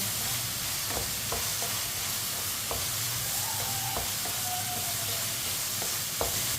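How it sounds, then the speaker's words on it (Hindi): Tomatoes cook in oil in a pan over a raised flame, making a constant close sizzle with occasional soft stirring knocks. "टमाटर को भी 1 मिनट के लिए पका लेंगे। चूल्हे की आंच को मैंने थोड़ा सा तेज कर लिया है।"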